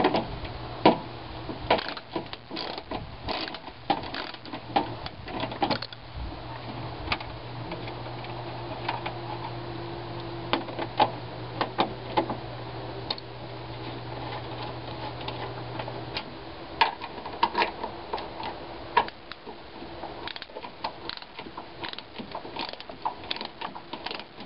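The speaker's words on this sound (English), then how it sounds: "But what I'm using here is an 8mm socket wrench." An 8mm socket wrench backs out screws on a minivan headlight assembly, making a long run of close, dry ratchet ticks and clicks in irregular bursts, with a steady low hum underneath and no talk.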